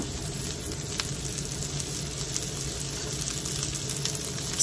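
Chopped onion sizzles in a hot pan for chop suey, a steady close-up crackle and hiss running without pause and with no voices.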